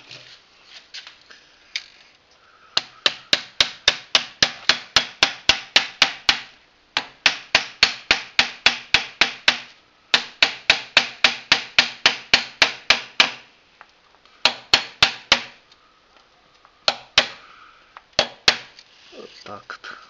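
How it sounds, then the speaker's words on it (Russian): Rapid bursts of hammer blows drive wooden wedges into the slots of a hand-wound stator for a wind generator, locking the winding in place; long rhythmic runs of sharp close strikes separated by brief pauses, with no talk. "Забиваем."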